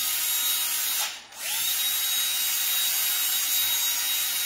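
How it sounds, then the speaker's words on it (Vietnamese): An electric drill runs close by beside an ultrasound machine, giving a steady high whine that briefly cuts out and spins back up, then continues evenly, with no talking. "các bạn đặt cái khoan vào bên cạnh ấy, mà các bạn bấm lên là chắc chắn nó sẽ ảnh hưởng"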